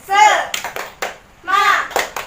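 Children in a classroom lesson perform the rhythmic 'tepuk semangat' clapping routine, two bursts of chanting voices each followed by several crisp, loud, close claps in a patterned beat.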